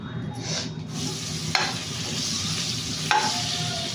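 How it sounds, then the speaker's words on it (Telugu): Chicken frying in butter in a pan, a continuous close sizzle with two distinct scraping stirs of a spoon against the pan and a low steady hum beneath; no one speaks. "ఫస్ట్ చికెన్ అనేది మనకు కొంచెం కలర్ మారే వరకు ఫ్రై చేసుకోవాలి"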